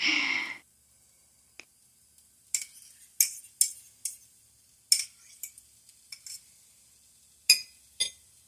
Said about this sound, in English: now I can get the ground turkey stirred into the rice